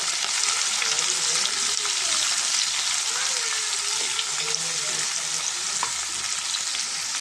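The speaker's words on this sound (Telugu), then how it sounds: "ఒక ఉల్లిపాయని ఒక రెండు పచ్చిమిర్చి తీసుకున్నాము ఇది కూడా బాగా ఫ్రై అవ్వాలి" Onion and green chilies, with curry leaves, fry in hot oil for a cabbage and chana dal curry, giving a steady, loud broadband sizzle throughout with occasional stirring scrapes and no talk.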